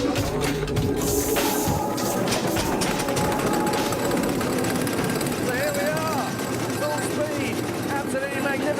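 A vintage farm traction engine with a flywheel and solid, non-pneumatic tyres starts to trundle off, giving a continuous, rhythmic mechanical clatter and chuff close by while someone talks over it.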